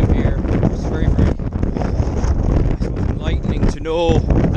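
Gusty wind buffets the microphone in a loud, continuous roar on a mountain in Connemara, with brief voices and rustling underneath.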